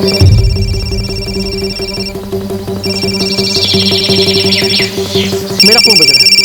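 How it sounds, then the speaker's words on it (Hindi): A phone rings with a steady, repeating electronic tone that carries through tense background music in a crime drama scene. "मेरा फोन बज रहा है।"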